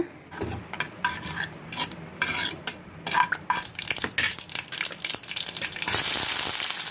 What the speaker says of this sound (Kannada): ಒಂದು ಸ್ವಲ್ಪ ಕರಿಬೇವು, ಸಾಸಿವೆ ಇಷ್ಟನ್ನು ಒಗ್ಗರಣೆ ಹಾಕೋಣ